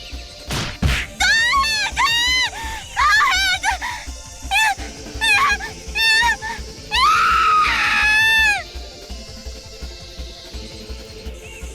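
A girl screams repeatedly in the Higurashi console game, shrill wailing cries in bursts over several seconds, with a sharp thwack near the start and a long sustained shriek late in the sequence, loud and close.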